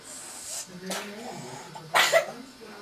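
A small child coughs a few times nearby, brief wet coughs over soft background vocal sounds, fairly quiet.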